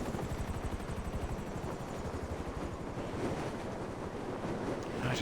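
Helicopters in GTA Online thud overhead with a fast, steady rotor chop, loud and continuous, mixed with windy rushing noise and no voices.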